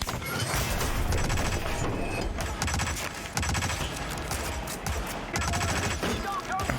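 Dense, rapid gunfire in the Hitman video game during a SWAT training mission, loud bursts and volleys packed together, with faint talking mixed in beneath the shooting.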